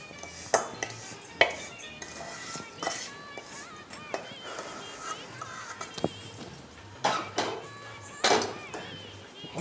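Food is transferred into a vessel in a kitchen, with metal utensils clinking and scraping against the pot in sharp, irregular knocks while a person talks.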